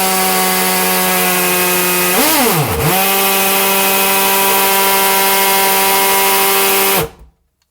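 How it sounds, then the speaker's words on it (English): A hammer drill runs close and loud at a steady pitch, sagging briefly around the middle as it bites into a screw during work on a Dell Inspiron 1720 laptop, then stopping abruptly near the end. "we've got our hammer drill here"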